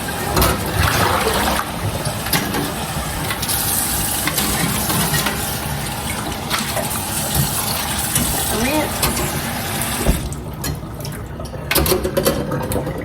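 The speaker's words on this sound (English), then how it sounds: "Let's give those a good rinse. Pour this water out." Water rushes and splashes continuously as grapes are rinsed, then pours off near the end, loud and close.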